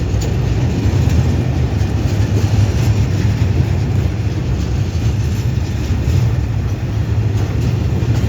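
A train rolls through the switch points at Nong Phluang station in Thailand, a loud, steady rumble of wheels and rail noise that holds for the whole stretch with no talk over it.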